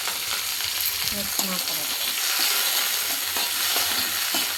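Tomato sizzling and frying in oil in a pan for avalakki bisi bele bath, a continuous crackling hiss with occasional stirring scrapes, while someone speaks briefly.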